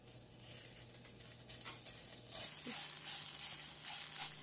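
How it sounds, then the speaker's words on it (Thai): Red curry paste, about 60 grams, sizzles in two tablespoons of hot vegetable oil in a wok, a steady close frying hiss that swells louder midway with occasional soft stirring scrapes. "น้ำมันร้อนใส่พริกแกงเผ็ดลงไป60กรัม"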